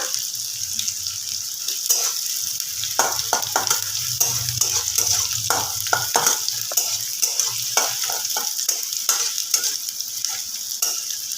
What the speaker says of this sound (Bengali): একটু লাল করে ভেজে দিতে হবে একদম লাল করব তা না